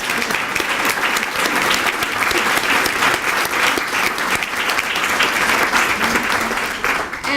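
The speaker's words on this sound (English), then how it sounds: "give you a round" Sustained, loud applause from a luncheon audience fills the room, a dense steady wash of many hands clapping without pause that tapers slightly near the end.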